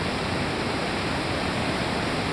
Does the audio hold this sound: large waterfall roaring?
yes